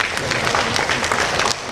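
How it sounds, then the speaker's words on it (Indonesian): A room full of colleagues at a government finance meeting claps together, a dense, even patter of applause that holds steady and then drops off slightly near the end. "Tepuk tangan untuk teman-teman KKP."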